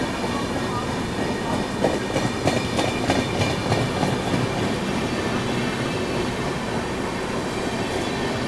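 The 12276 New Delhi–Prayagraj Humsafar Express running nonstop, a steady loud roar of wheels on rails with faint rhythmic clacks over joints, continuous and unbroken throughout.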